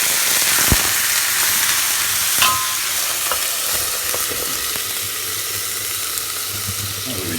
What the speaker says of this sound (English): fry it for about a minute, and then we're going to throw some water in, bang the lid on